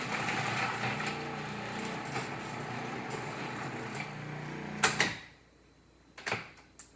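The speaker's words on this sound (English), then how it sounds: "we'll start by feeding the onions into the slicer blade on" A food processor slicing onions through its slicer blade, a steady whirring motor drone with a faint rattle that runs for several seconds, ends with a knock as it stops, followed by a brief clatter.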